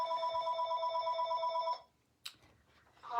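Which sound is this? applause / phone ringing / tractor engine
phone ringing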